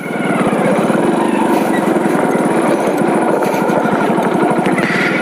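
A motorcycle engine runs loud and close after being restarted, holding a steady, rapidly pulsing chug for the whole stretch without any talking.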